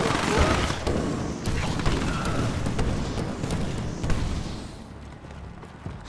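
Gunfire and artillery blasts in a Command & Conquer 3: Tiberium Wars battle, a dense run of shots and booms at moderate level, overlaid with clipped unit voice responses and commands.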